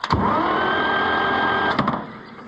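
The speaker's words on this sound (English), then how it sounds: "We got an engine that turns now, see? We've got a starter that works now" Electric starter cranking an Oliver 1355 tractor engine, a steady whirring drone that runs loud and continuous for nearly two seconds before cutting off, alone without talk.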